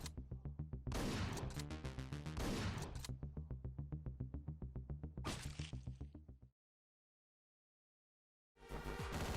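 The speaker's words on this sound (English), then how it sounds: "Using the sound of your gunshots is a good way to draw criminals into your trap" Rapid bursts of synthetic video game gunfire with repeated electronic shots, loud and close, a sudden silence of about two seconds, then firing resumes.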